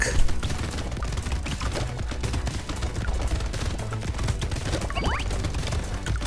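Automated turrets firing nonstop in the Brotato video game, a dense barrage of rapid gunfire-like pops and crunches mixed with game music, loud and busy throughout with no pause.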